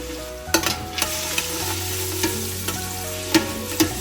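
Carrots and onion frying in hot oil with whole garam masala (cinnamon, cloves, star anise, cardamom) give a loud, close sizzle, punctuated by several sharp stirring knocks and scrapes.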